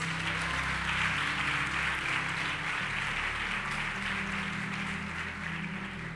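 A church congregation applauds together during a sermon, a dense, steady wash of clapping that holds at an even level for several seconds over a low sustained hum.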